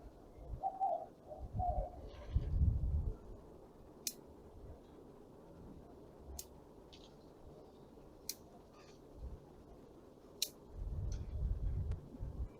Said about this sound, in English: I'm just cutting all the shoots shorter and then kind of seeing what we're left with